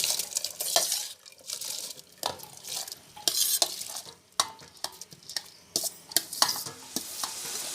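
Rice for chicken biryani is tipped into boiling water in bursts of splashing, rattling noise, with occasional clinks against the pot.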